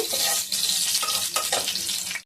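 Marinated meat frying in oil in a kadai, a brief burst of loud close sizzling with stirring clatter, cutting off abruptly at the end.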